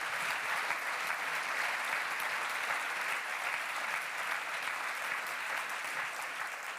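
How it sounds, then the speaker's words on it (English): A conference auditorium audience gives the closing plenary panelists a sustained round of applause: a dense, even wash of many hands clapping, moderately distant and steady throughout, with no voices on top. "Please give them a very warm round of applause."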